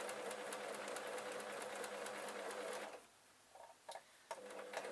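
A sewing machine stitches a sunhat round in a circle, running steadily and loud for about three seconds, then stopping and giving short, faint bursts as the fabric is adjusted.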